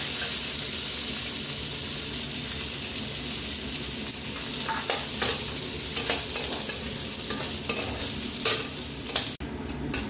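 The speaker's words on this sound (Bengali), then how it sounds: "গোবিন্দভোগ চাল অল্প একটু নিয়ে আমি ধুয়ে জল ঝরিয়ে রেখে দিয়েছিলাম, ওটাকে এবারে তেলের মধ্যে দিয়ে দেব" Washed, drained Gobindobhog rice fried in oil gives a loud, continuous sizzle, broken near the end by repeated scraping strokes of a spatula stirring the grains, with no talking.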